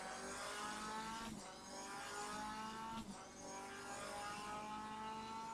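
A race car at Cadwell Park, in the 2024 AMS MCR Championship, engine held at a high, steady whine with harmonic tones, two brief dips marking gear changes, loud and close from onboard with no talk.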